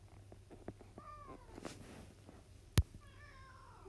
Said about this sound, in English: you can hear my cat yelling at me because I won't let him out